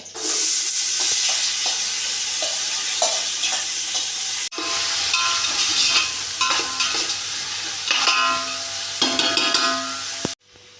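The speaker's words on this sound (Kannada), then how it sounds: "ಇಲ್ಲಿ ಈರುಳ್ಳಿ ಸ್ವಲ್ಪ ಫ್ರೈ ಆಗಿದೆ" Onions frying in oil with spices, a loud bright sizzle with repeated scraping stirs, briefly interrupted midway and ending with a sharp clank.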